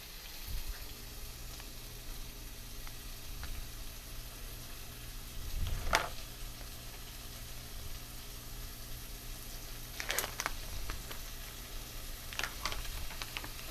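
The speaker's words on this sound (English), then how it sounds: "To my pan, I'm going to go ahead and add my ground beef and my sausage." Ground beef and sausage in olive oil sizzle quietly and steadily in a pan, with a few louder clatters and stirring noises breaking the soft hiss.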